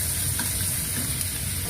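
Cumin paste, ginger paste and green chilli frying in oil in a pan: a dense, steady sizzle with constant hiss, close and unbroken, no talk.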